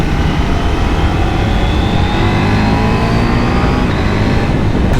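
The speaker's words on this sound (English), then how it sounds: "when I am downshifting and I'm coming to a stop and not touching anything and just letting the bike slowly come down in revs" A KTM 790 Duke motorcycle engine heard loud and close, a steady droning exhaust note whose pitch slowly shifts while the bike comes down in revs, with no talking.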